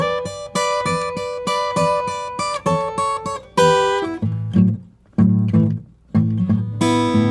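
Acoustic guitar plays a fast-change blues shuffle in A, with rhythmic plucked chords followed by sparser single-note phrases, loud and close with no talking.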